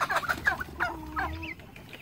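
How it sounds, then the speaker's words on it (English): Turkeys and young hatched chicks in a backyard pen, giving a few close gobbles, clucks and soft peeps in quick, irregular bursts over a couple of seconds, with no talking. "Turkeys are over here investigating."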